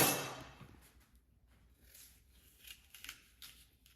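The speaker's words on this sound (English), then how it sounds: "And then I cut the apple in quarters." An apple being cut into quarters with a knife in a home kitchen, heard as a crisp slice at the start followed by quieter scattered cutting and handling sounds at close range.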